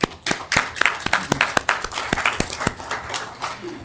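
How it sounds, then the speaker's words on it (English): A small gathering at an Arkansas Game and Fish Commission meeting gives a brief round of applause, scattered, uneven hand claps from a handful of people at moderate volume, fading toward the end. "So I think y'all deserve a little round of applause."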